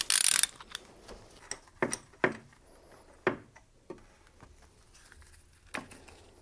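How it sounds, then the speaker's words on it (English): Ratchet wrench with a 24 mm deep socket loosening an original oil pressure sensor on a VW/Audi 2.0T engine, a series of close, sharp clicks in an irregular rhythm, with no talk. "The sensor itself is a size 24 socket. It has to be deep, otherwise you're not going to be able to get a hold of it."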